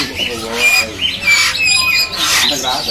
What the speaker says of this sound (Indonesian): Nuri Ambon.